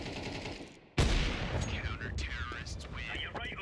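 A flashbang grenade in Counter-Strike goes off as one sudden, loud burst. A dense clatter of gunfire and shifting ringing tones follows, and a voice speaks amid the noise.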